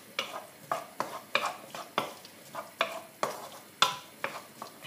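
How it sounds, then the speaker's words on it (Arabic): Onions frying in olive oil are stirred in a pan, a spoon sweeping in a steady rhythm of about two scrapes per second over a soft sizzle, close and fairly quiet. "نحط البصل، خليه يتقلب شويه"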